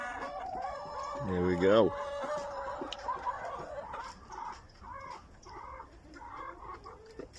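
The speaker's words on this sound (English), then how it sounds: "Rescued hens." Rescued hens about three and a half years old, clucking and squawking at close range with a sharp rising call early on, while someone talks over them.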